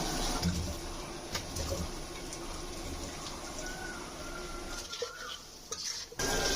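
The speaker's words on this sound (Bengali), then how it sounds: "এখন এই মশলাগুলো খুব ভালো করে কষাই নেব।" Spices for a taro and tangra fish curry are stirred and fried in a pan, a soft sizzle under scraping and clinking of a spoon against the pan, close and fairly quiet.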